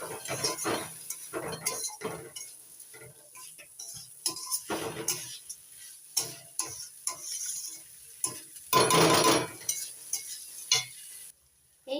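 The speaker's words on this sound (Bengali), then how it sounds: "গোবিন্দভোগ চালটা ভালো করে মিশিয়ে কষিয়ে নিচ্ছি" Gobindobhog rice is stirred and fried in a pot with a spatula, producing repeated scraping strokes and metallic clinks over a light sizzle, in irregular bursts with a louder scrape near the end.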